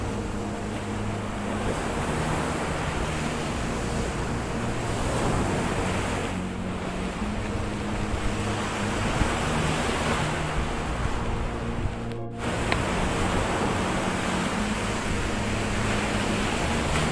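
Ocean waves wash continuously at Pandawa Beach in Bali, a loud, dense surf roar with wind buffeting the microphone and a brief dip near the end, and no voices.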